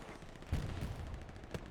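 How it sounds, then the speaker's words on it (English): Artillery shells landing in a Hurtgen Forest match of a competitive military shooter, with a few broadband booming impacts, including a sharp strong hit near the start and another near the end, over a continuous rumbling battlefield din. "Artillery is landing directly on the airhead"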